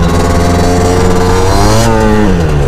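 A motorcycle engine revs hard and steady during wheelie practice, then the pitch sags as the rear brake chokes it down toward stalling; loud and close throughout, with no talking.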